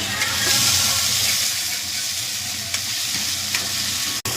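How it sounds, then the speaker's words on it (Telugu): Egg fried rice with tomato sizzles and hisses steadily in a hot pan, street style, with occasional stirring scrapes and one sharp clack near the end; no one speaks over it. "ఇలా ఫ్రై చేసుకోవాలి. టమాటా వేసుకోవాలి."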